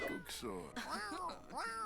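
A cat in The Sims 4 video game gives several short, clear meows in quick succession, close and distinct.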